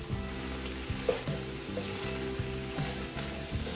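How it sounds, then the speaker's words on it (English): Cameroonian eru greens and fresh spinach stirred together in a pot, giving a steady, close sizzle with a repeating scraping rhythm and no talk. "So you just want to mix everything up."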